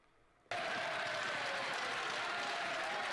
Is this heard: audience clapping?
yes